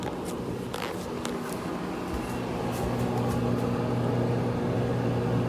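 A microwave oven runs on a two-minute timer, giving a steady low hum and fan whir that holds evenly throughout with no talking.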